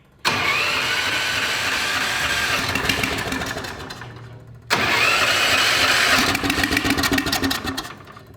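A turbocharged coffin-shaped go-kart engine is cranked twice, each attempt a loud, near, sustained mechanical whir and rumble lasting a few seconds, with a brief lull between tries.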